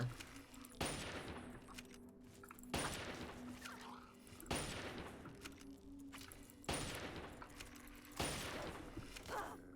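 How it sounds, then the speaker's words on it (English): Repeated gunfire aimed at the player in a video game: five heavy booming shots at roughly two-second intervals, each trailing into a rumbling echo, with a steady low hum underneath. "And there's someone else shooting at me?"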